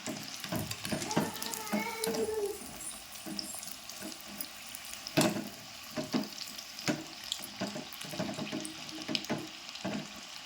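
Paneer kebabs frying in oil, a soft bubbling sizzle broken by frequent clicks, scrapes and taps as the pieces are turned and moved in the pan, at moderate loudness.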